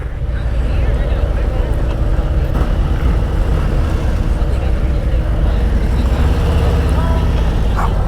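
A Harley-Davidson Road Glide Special motorcycle pulls off in first gear, its engine a loud, steady low rumble close by throughout, with wind buffeting and a rider's voice faintly mixed in.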